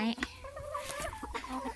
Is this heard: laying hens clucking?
yes